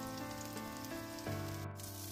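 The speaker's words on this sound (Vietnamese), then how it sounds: "Sườn chay rất nhanh chín, các bạn có thể chiên vàng vừa tới." Vegetarian ribs fry in hot oil in a pan, giving a steady, close sizzle that runs through the whole stretch with a tonal hum underneath.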